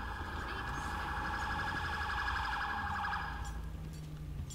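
A police car siren wails in GTA V with the LSPDFR mod, a loud warbling electronic tone sounding continuously close by before fading out near the end.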